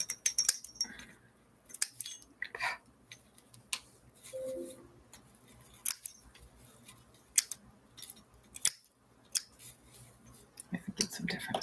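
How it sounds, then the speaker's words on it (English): Scissors cut through craft garland, giving a series of sharp, close snips and crisp clicks in irregular bursts separated by short quiet gaps. "I could get some different scissors here."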